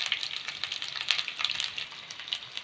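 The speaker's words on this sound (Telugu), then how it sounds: "అల్లం వెల్లుల్లి పేస్ట్, కొంచెం వేగిందంటే" Ginger garlic paste with curry leaves and asafoetida frying in hot oil in a pan for vegetable kichidi, a close, steady sizzle with crackling pops throughout and no voices.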